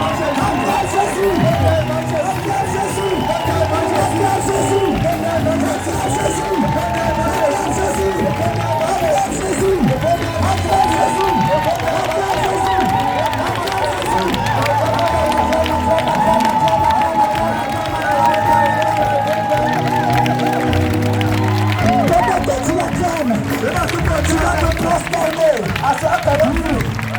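A church congregation at a morning convention session shouts and cheers in acclamation of Jesus, a dense, sustained crowd roar with clapping that stays loud and steady throughout, with voices layered over it.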